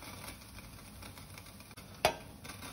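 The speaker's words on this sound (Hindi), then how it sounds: "इसी तरह से हम सारे मंगोड़े तल लेंगे" Moong dal mangodas frying in hot oil give a steady, soft sizzling hiss throughout, with one brief clink of a utensil near the end.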